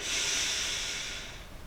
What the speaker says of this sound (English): breathing in for 2